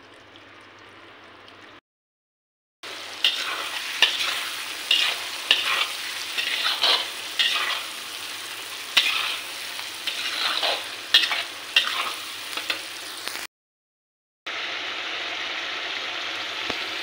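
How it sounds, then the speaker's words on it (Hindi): Spices frying in a pan on medium-high heat for a tinda and yogurt curry: a steady close sizzle with repeated scraping stirs, broken by two short silent gaps. "मसाले को अच्छे से पका लेंगे।"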